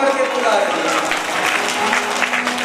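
A crowd claps along during devotional bhajan singing at a Bhagwat Katha in Darbhanga, dense rhythmic hand claps filling the space under voices singing together.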